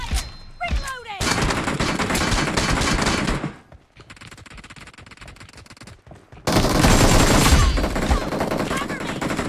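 Dense bursts of video game gunfire, several stretches of rapid automatic shooting broken by a quieter lull, with voices calling out over the action in a team shooter match.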